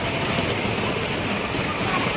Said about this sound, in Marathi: पाऊस बघ केवढा मोठा येतोय